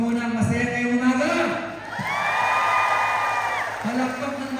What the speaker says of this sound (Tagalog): Palakpak muna ang masaya ngayong umaga.